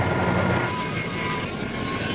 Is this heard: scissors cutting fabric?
no